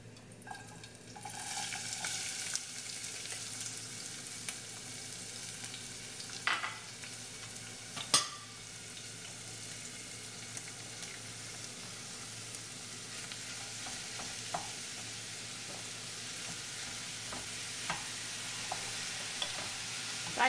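Chopped onion and mushrooms sizzle steadily in a pan, with occasional scraping stirs and clicks breaking through the continuous frying hiss.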